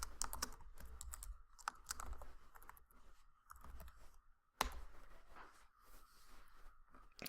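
Someone types on a computer keyboard, entering a search hashtag. Keystrokes come in quick, steady bursts with short pauses, fairly close and at moderate volume, and nobody talks.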